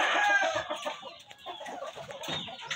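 Layer hens cluck and call continuously inside a chicken house on an egg farm, with overlapping close and distant voices forming a busy, steady chatter.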